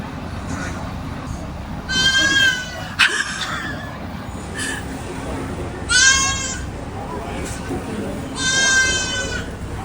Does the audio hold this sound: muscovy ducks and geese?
no